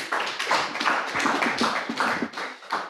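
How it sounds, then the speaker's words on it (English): A workshop audience at a regional meeting gives a speaker a round of applause, a soft, steady patter of many hands heard at a distance, fairly quiet and even throughout with slight pulses. "We can give him once again a round of applause."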